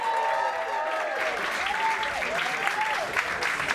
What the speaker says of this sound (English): Put your hands together and raise the roof of the Gennaro room here at the Groucho for Marc Dolan!